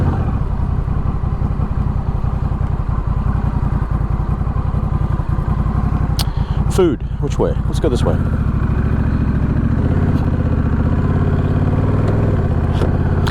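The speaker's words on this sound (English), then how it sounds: "Yeah, this exhaust is healthy sounding, but it's not obnoxious" A Honda Rebel 1100 motorcycle exhaust rumbles steadily and close while riding in Houston, a deep continuous drone with a brief dip as the rider speaks a few words over it.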